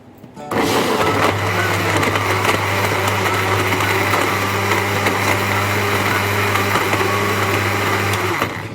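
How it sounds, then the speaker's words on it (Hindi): A blender whirs steadily and loudly as it blends banana, dates and half a litre of milk into a milkshake, starting abruptly and running continuously for about eight seconds with a constant motor hum. "अब हम इसे ब्लेंड करेंगे"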